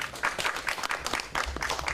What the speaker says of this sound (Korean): 예, 박수.